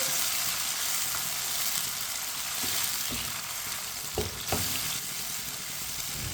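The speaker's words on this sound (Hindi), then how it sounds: "अब इसे 3 मिनट के लिए पका लेंगे चम्मच चलाते हुए" Green chillies and chopped tomatoes frying for a masala bhindi base, stirred with a spoon: a steady, moderate sizzle runs throughout, with a few soft scraping knocks of the spoon near the end and no talking.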